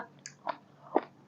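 Chewing tough raw beef: a few moist, close bites and chews, two distinct squelching crunches about half a second apart, quiet and isolated.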